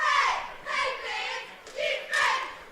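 Crowd noise at a high school boys' basketball game between Fairfield and Waltonville, Fairfield's home opener, with a large crowd: bursts of cheering and shouting that rise and fall across the moment, fairly loud and close.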